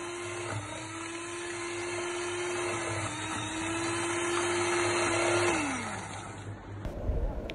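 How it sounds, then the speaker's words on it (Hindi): Electric hand blender beating butter with powdered sugar in a bowl, a loud steady whirring drone that holds for about six seconds, then winds down and stops with a few clatters. "दोनों को अच्छे से डबल ब्लेंडर से बीट करेंगे।"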